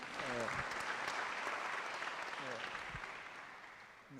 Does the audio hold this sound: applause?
yes